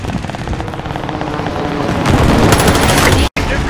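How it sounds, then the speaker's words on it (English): In the Call of Duty Operation Monarch mode, rapid gunfire and explosive booms from an airstrike rumble close and loud, then cut off abruptly near the end. "Allied precision airstrike incoming."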